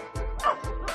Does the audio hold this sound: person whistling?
no